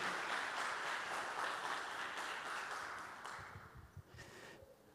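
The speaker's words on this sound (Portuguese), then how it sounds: "Vamos dar uma salva de palmas para o Danielzinho?" Church congregation clapping for young Danielzinho, a soft, distant wash of applause that thins and fades out after a few seconds, with a brief bump of nearby noise near the end.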